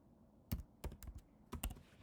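A few isolated keystrokes on a computer keyboard, sharp and close, in small clusters with brief gaps in a quiet room, no speech.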